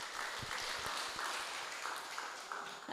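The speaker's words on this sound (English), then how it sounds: "Big hand of applause for him." An audience at a community parenting session applauds, a steady wash of many hands clapping at moderate volume with a few sharper individual claps standing out early on.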